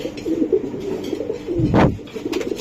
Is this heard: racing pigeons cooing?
yes